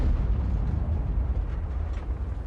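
Tank cannon fire in World of Tanks, heavy booming blasts with a dense low rumble running steadily through the whole stretch, loud and close with no talk.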